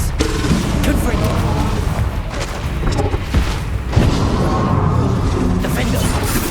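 Confringo blasting spells burst again and again in Hogwarts Legacy combat, loud booming explosions crowding a chaotic battle, with a voice shouting spell names over the blasts.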